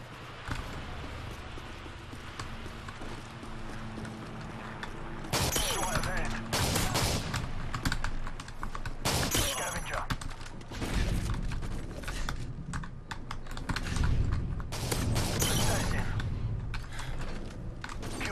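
Rapid gunfire bursts from Call of Duty Modern Warfare 3 online multiplayer, loud sharp volleys repeating through the clip with a player talking over them.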